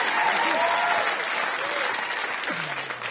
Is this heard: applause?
yes